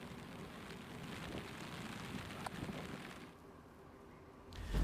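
Heavy rain pours over flooded streets in Olpad near Surat, Gujarat, a steady dense hiss that thins slightly near the end before a louder burst.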